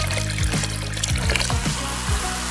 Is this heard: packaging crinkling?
no